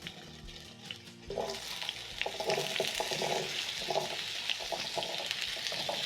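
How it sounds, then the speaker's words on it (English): Potatoes hitting hot oil in a non-stick pan, a sudden sizzle that swells after a quiet start and then keeps frying steadily with scraping stir sounds, close up and without talk. "Spread your oil in your pan, and then you're going to transfer in your potatoes."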